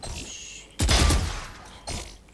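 Gunfire rings out while bots are shot in Valorant, a sharp close burst of shots followed by a shorter second burst over a steady faint game background.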